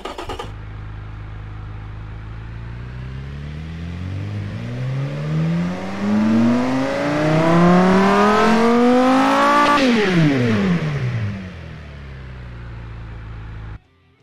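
A V10 engine in the Automation car tycoon game revs steadily upward to 7,000 RPM, climbing in pitch to a sharp peak, then drops back and settles into a lower hum before cutting off; loud and alone.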